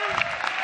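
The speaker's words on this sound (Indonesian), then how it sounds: "boleh dong minta tepuk tangan sekali lagi buat Irfan" An audience at the SUCI X semifinal show claps again for Irfan, a burst of dense, close applause that carries on without a break.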